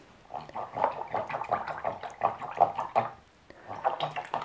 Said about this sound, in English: I'm rinsing my brush because it got pretty gloppy